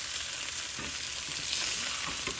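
Bombay potatoes, already cooked, frying in a pan make a steady, bright sizzle throughout, close and continuous with faint stirring scrapes and no talking.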